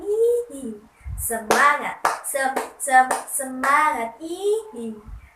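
A class of first-grade children claps a rhythmic chant routine in a classroom, sharp, evenly spaced hand claps over chanted voices.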